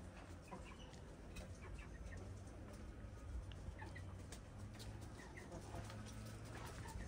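Naked neck chickens cluck softly and intermittently in a quiet farmyard, with scattered short calls over a faint background murmur.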